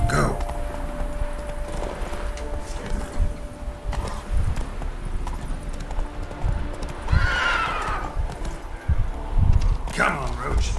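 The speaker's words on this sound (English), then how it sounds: "Come on, Roach." A horse in The Witcher 3 video game clip-clops along at a steady gait, with a whinny partway through, mixed with game sounds and someone speaking.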